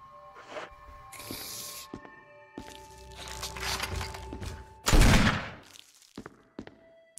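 Gunfire in Resident Evil HD, a few sharp game shots among thuds and footsteps, with one loud close blast standing out over a busy mix of game effects.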